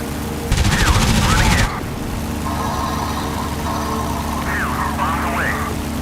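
A dense, buzzing burst of rapid machine gun fire from an F4U Corsair in DCS World, about a second long, loud over a steady droning aircraft engine.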